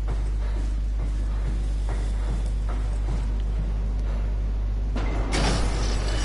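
A previously locked door slides open in the horror video game SOMA, a brief mechanical whoosh and clunk rising near the end over a steady low electrical hum.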